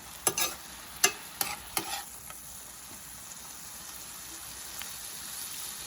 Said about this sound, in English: I want these mushrooms to cook down